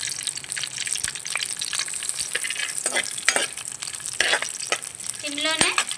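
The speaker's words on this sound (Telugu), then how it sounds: "ఘీ వేసుకుందాం, నెయ్యి, డ్రై ఫ్రూట్స్ వేయించుకోవడానికి." Dry fruits fry in hot ghee in a pan, a steady soft sizzle with scattered stirring scrapes and clinks, close and fairly quiet, with no talking.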